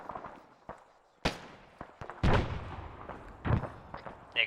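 Gunfire and grenade blasts in the military shooter Arma, a series of sharp cracks and heavier booms at irregular intervals, some close and loud, others more distant, with no voices.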